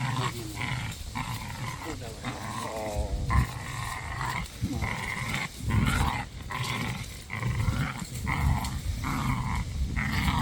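A German hunting terrier growls and snarls in close, repeated bursts while playing tug with a rope, its rough rumbling breaking up between short pauses.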